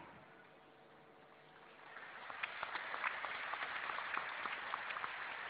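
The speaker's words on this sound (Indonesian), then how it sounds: "Oh saya senang semua tepuk tangan." Congregation applauding during an Easter sermon at a church service, a soft crowd patter that swells in after about two seconds and carries on steadily, somewhat distant and fairly quiet.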